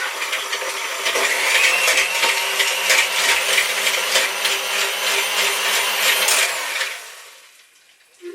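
Blender whirring through avocado and cocoa powder for a three-ingredient chocolate mousse, a steady loud motor drone with rapid rattling and popping for about seven seconds before cutting off, no talking.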